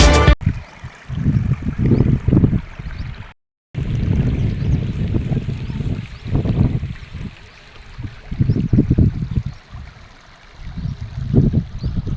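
Rushing river water flows steadily in the open air of the Raval river in Gir, with broad wind-like rumble and bursts of low buffeting, loud and continuous throughout.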